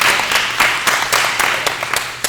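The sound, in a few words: audience clapping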